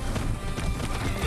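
Hooves clop steadily under a brief horse whinny in the video game Far Cry 6, loud and close, with a busy background of ambient noise.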